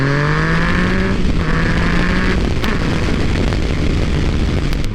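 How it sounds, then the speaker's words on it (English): Engine and exhaust of a 2014 Yamaha FZ-09 motorcycle roar loudly and steadily, with a rising rev that drops around the midpoint before droning on under wind rush. "that exhaust sounds really good"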